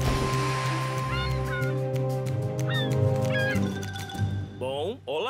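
Cartoon seagulls squawk in short, rising and falling cries over a steady musical background in a Thomas & Friends animated adventure involving a balloon at a party, with the calls fading near the end.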